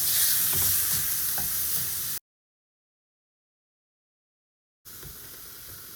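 Lamb mince fries in a pan toward dark brown, a strong close sizzle that cuts to complete silence for a couple of seconds, then resumes more softly.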